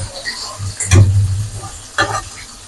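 Rohu fish frying down in hot oil in a pan, a steady sizzle with two sharp bursts of stirring scrapes and crackles, close and fairly loud.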